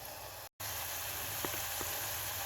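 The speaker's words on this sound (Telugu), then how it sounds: "ఓకే, ఆనియన్ పచ్చిమిర్చి ఆల్మోస్ట్ వేగిపోయాయండి" Onions and green chillies frying in a pan for mutton curry: a continuous, even hiss of sizzling oil, close and steady, broken by a brief dropout and a couple of faint taps.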